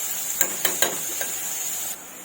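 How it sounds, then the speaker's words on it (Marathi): Onion, garlic and chilli fry in oil, a steady bright sizzle with a few quick clinks of a spoon against the pan near the start. "हे पहा कांदा लसूण आणि मिरची आपली चांगली अशी तेलामध्ये फ्राय करून घ्यायची"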